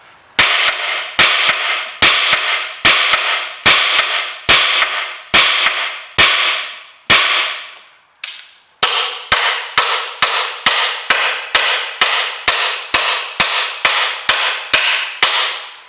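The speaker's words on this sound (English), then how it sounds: "I'm gonna hit the bolt" A hammer striking a seized, rusty bolt on the rear brake caliper of a Citroen C5, with about twenty sharp, loud metallic blows in a steady rhythm and one brief pause partway through.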